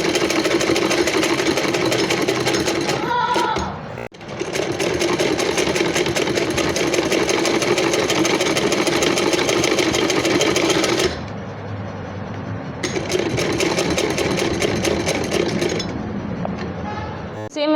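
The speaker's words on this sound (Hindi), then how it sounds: "अब हम दोनों निशानों को मिला लेंगे और हम इस निशान से सिलाई लगाएंगे।" A sewing machine stitches a kurti neckline in long continuous runs, loud and close. A brief pause breaks the stitching early on, and the pitch changes in the later stretch.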